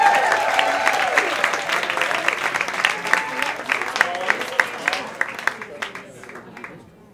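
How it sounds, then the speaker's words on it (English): Audience applause at a live storytelling slam event, a dense burst of clapping and cheering that is loud at first and gradually thins and fades over several seconds, with a voice over the crowd. "applause going for John J. Reed."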